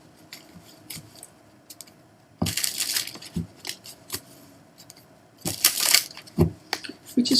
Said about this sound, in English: We're going to shuffle and cut for the first